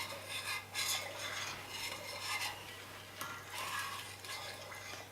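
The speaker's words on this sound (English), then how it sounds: "And stir it till it gets thick." A spoon scrapes and swirls through creamy clam chowder thickening in a pot over low heat, giving soft, repeated rasping strokes close by under a steady low hum, with no talking.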